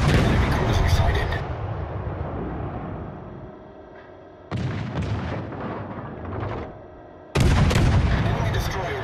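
Warship guns fire in the naval video game World of Warships: heavy booming salvos with long rumbling decays, a loud blast at the start, a quieter cluster midway and another sharp volley near the end.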